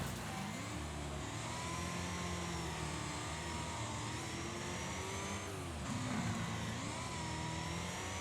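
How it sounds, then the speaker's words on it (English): A buzzy, synthetic-sounding video game buggy engine hums and revs continuously, its pitch rising and dipping a few times, steady and fairly quiet throughout. "the engine sounds in this game are not the most realistic"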